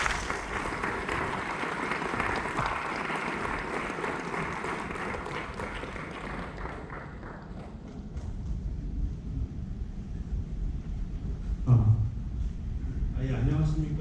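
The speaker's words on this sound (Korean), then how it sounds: "양국진님 나오실 때 큰 박수 부탁드립니다." A meeting hall crowd at a Mokdong apartment reconstruction briefing claps to welcome the next presenter, a broad wash of applause that fades out after about seven seconds, followed by quieter room noise and a few small knocks.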